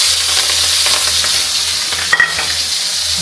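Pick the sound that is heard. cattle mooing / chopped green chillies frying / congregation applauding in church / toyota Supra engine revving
chopped green chillies frying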